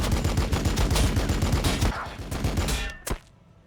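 Rapid bursts of heavy automatic bolter gunfire from a Warhammer 40,000 tabletop battle, a thudding rhythmic stream of shots that slows and ends with one last sharp blast before fading out.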